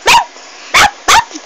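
A man imitates a dog, giving three loud, short barking yelps in quick succession with brief pauses between them, close to the listener.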